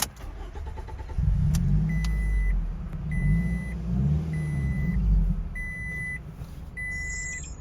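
A 2006 Scion tC engine cranks briefly and catches, settling into a rumbling idle nearby while repeated electronic chime beeps sound at intervals.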